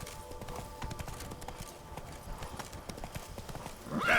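Rhythmic hoofbeats of a horse galloping in The Witcher 3, a quick regular clip-clop at moderate level, ending with a short whinny.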